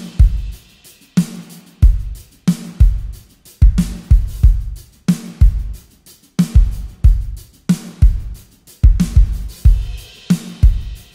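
Steven Slate drum kit playing alone: punchy kick and snare hits in a steady driving pattern with busy, intricate hi-hat work riding on top, loud and close.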